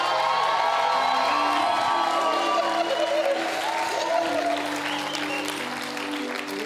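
A church congregation claps and cheers for Jesus in a steady, dense wave of applause with shouts and whoops. The crowd noise stays loud and full throughout and eases only slightly toward the end.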